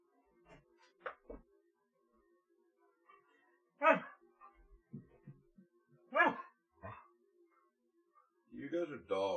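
Dogs barking indoors, scattered single barks and short yips spaced across the stretch, fairly close but moderate in level, with quiet gaps between them and a soft whimper near the end.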